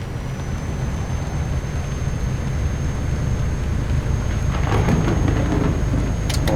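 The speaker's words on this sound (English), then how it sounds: "You hear that thunder?" Thunder rumbling during a rainstorm, a continuous low grumbling roar mixed with steady rain hiss, with crackling bursts late on, heard without talk.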